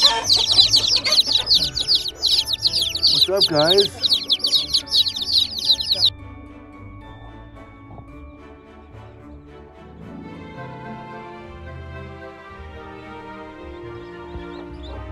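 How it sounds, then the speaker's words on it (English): Baby chicks peep in rapid, high chirps close by for several seconds, then stop, followed by soft background tones and a brief spoken greeting. "Mess of baby chickens. Where's mama?"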